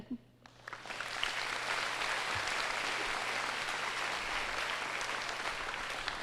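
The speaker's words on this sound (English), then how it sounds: "Please give one last round of applause" Sustained audience applause fills a high school graduation ceremony for the class of 2021, building quickly after a brief quiet start into dense, steady clapping from a large crowd.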